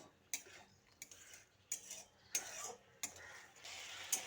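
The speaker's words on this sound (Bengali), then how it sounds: "এবার হলুদ আর লঙ্কাটা দিয়ে ভালোভাবে মিশিয়ে নিচ্ছি।" Turmeric and chili powder are stirred into ridge gourd in a pan, giving five or six quiet, evenly spaced scrapes and taps of a spoon against the metal, close by.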